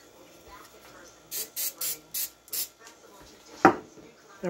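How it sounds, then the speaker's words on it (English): Cooking spray hisses onto a grill in five short bursts in quick succession, close and crisp, followed by a single clank. "Take a little bit of cooking spray."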